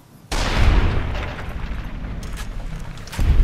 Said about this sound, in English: Where's my sturdy caravan shotgun?